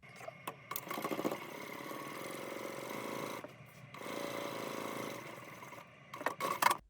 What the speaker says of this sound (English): we're going to stitch this down using a 1/2 inch seam allowance right along the bottom